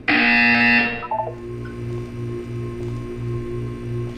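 A game buzzer in Portal 2's wellness exercise gives a loud, bright tonal blast for about a second, then a low pulsing hum repeats steadily under it.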